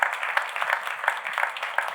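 Audience applause follows a speech about Israel's right to exist, with dense, steady clapping from a crowd that holds at a moderate level for the whole stretch and has no voices over it.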